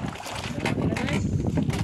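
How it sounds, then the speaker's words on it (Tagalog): Fishing boat engine running at sea during a yellowfin tuna trip, a steady close rumbling drone mixed with wind buffeting and water noise, continuous throughout. "Andar na makina."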